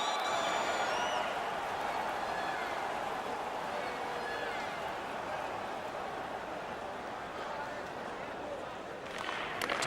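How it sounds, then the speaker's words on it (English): A home hockey crowd cheers and roars through a Maple Leafs vs Bruins Game 7, a dense, steady wall of arena noise with whistles and shouts near and far, holding loud throughout with a slight swell at the end. "The home crowd is ecstatic with that decision."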